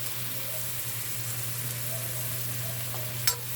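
Pancit guisado ingredients frying in a pan, a steady low sizzle with quiet stirring throughout and a single sharp clink near the end.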